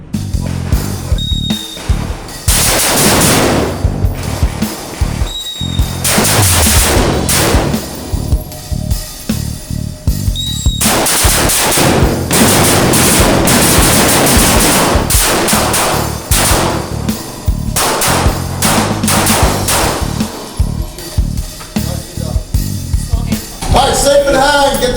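Rifle shots fired during close quarters battle and room clearing training, loud sharp reports in irregular bursts and quick pairs with gaps between, some echoing off the surroundings, with no talking between the volleys.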